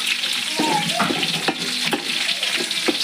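Garlic and green chillies frying in hot oil for a gram-flour chunumuri snack. A steady close sizzle fills the whole stretch, broken by a few sharp scraping knocks from a stirring spoon.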